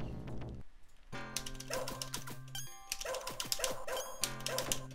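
Dog companion in the arcade game Shadow Dancer barking in quick bright bursts, several sharp yaps and yips over chiming game music, close and fairly loud.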